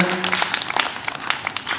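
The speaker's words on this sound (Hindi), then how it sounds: "इनके लिए जोरदार ताली लगा" Audience applause for the stage set designer at a theatre play, a dense steady patter of many hands clapping throughout, with a faint voice briefly underneath.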